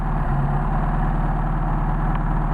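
A Mercedes 190SL engine fitted with Solex 44PHH carburetors idles warm at about 1250–1300 RPM, a steady, low rhythmic rumble with an even pulse, close and continuous.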